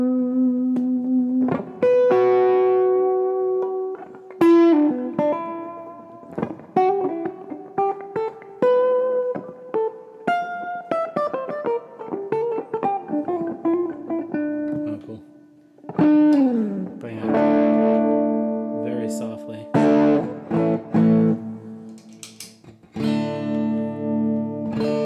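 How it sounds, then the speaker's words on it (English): Electric guitar played through a Tube Screamer overdrive pedal on a Languedoc G2, sounding as sustained overdriven notes and chords with pauses between phrases, loud and close, with no talking. "First tube screamer in front of it."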